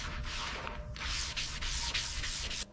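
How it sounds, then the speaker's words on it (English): Steady rasping strokes of sanding body filler on a Pontiac GTO restoration, close and continuous with brief pauses between passes, no talk. "Hours of sanding."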